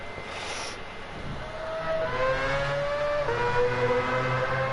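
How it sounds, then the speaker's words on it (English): Harsh, grating engine note from a car in the Gran Turismo 7 racing game. It holds a steady buzzing tone that climbs in pitch as it revs, continuous and fairly loud, with no talking. "it's not a particularly unpleasant car to drive, it just sounds terrible."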